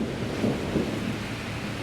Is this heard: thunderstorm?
yes